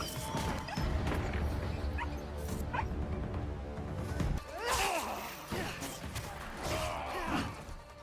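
A dog barks, yips and whimpers in Assassin's Creed Shadows, its calls coming in short bursts over busy game sound with crashes and a loud impact, while a voice talks across part of it.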